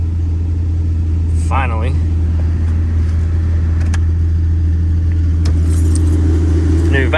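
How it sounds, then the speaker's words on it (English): A Jeep Grand Cherokee engine hums steadily right after a cold start, a constant low drone up close, with keys jangling and a person speaking briefly over it. "Motor sounds nice and healthy."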